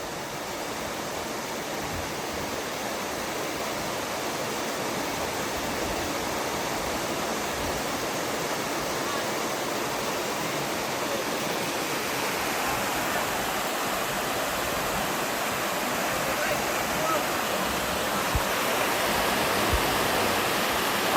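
Steady broadband rush of river water flowing in Quezon, a continuous roar that swells slightly toward the end, close and even with no voices over it.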